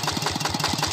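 A Kubota 110 DI 11 HP single-cylinder diesel with a balancer idles nearby while driving a 6-inch Ebara water pump, giving a loud, steady, rapid chugging thump heard alone.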